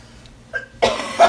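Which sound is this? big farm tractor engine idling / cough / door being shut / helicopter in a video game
cough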